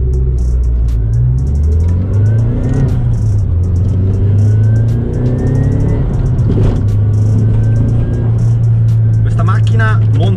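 A Nissan Silvia S15 Spec-R with a turbo drives close up, its engine rumbling and rising through revs in steady pulls, while someone talks over the continuous engine noise.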